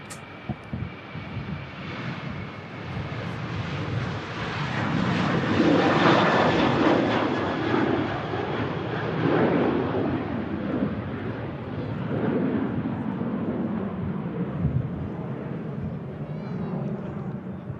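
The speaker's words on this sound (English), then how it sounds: "There goes the Sun Express 737. Departing 23 right at Manchester." SunExpress Boeing 737 departing runway 23 right at Manchester Airport, a loud jet engine roar that swells and holds for many seconds, then slowly fades at a distance.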